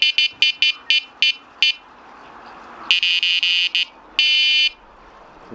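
Sonik SKX carp fishing bite alarm signalling a drop back: a burst of quick high beeps, a pause, then longer, steadier tones in a different pattern, including a sustained beep, loud and close with no talk.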